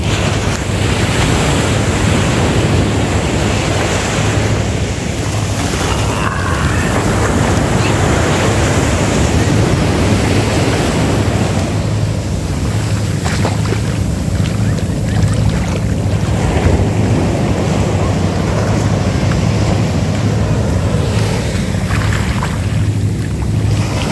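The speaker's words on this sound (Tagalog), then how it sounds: "Sakto lang yung alon" Sea waves wash steadily onto a beach at a resort in Zambales, with a constant broadband roar of surf mixed with wind buffeting the microphone throughout, no voices.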